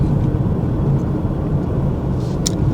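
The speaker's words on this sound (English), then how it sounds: "you can notice the engine sound or engine noise going to be quite low or quite reasonable" An MG3 1.5L hatchback cruises at speed, giving a steady low engine drone and road rumble from inside the cabin that holds a constant loudness, with no voices.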